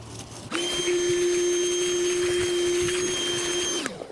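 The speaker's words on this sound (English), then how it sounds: "use a vacuum this time, and we'll just suck it up" A shop vacuum cleaner sucks debris from the fuel pump O-ring channel of a 2002-2007 Jeep Liberty, switching on with a steady whine that runs continuously for about three seconds before shutting off, close and loud, with no talking.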